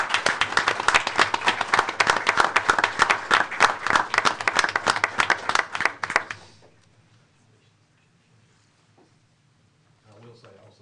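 A room at a school board of education meeting breaks into applause, dense clapping from a moderate crowd lasting about six seconds before fading out to near silence.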